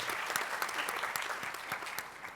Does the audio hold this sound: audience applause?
yes